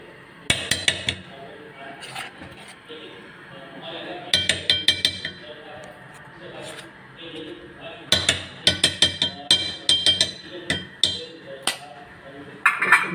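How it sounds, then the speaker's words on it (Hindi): A metal spoon clinking against a pot of barley porridge as spoonfuls of desi ghee are added, with bright repeated taps in several short bursts while a person talks throughout. "ये डालने लगे हैं 2-3 चम्मच देसी घी"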